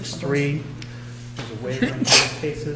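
A single sneeze in a courtroom during a misdemeanor docket hearing, a short sharp burst amid steady talk from the bench and attorneys, with a hum in the background.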